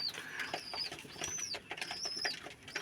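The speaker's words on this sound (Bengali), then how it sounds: "এগুলো আমার সবগুলোই রাজশাহী গিরিবাজ কবুতর" Rajshahi Giribaz pigeons coo and call softly in a loft, with bursts of fluttering wingbeats mixed between the bird sounds at close range.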